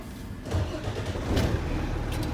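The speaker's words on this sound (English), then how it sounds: "Now we're going to safe start the truck." A truck engine cranks and catches during a safe start, a brief rising burst that settles into a steady low running rumble, close and fairly loud with no talk.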